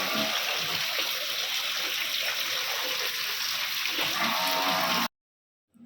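River floodwater rushing into a farmyard in a loud, continuous broadband roar that stops abruptly, with a faint low animal call beneath it.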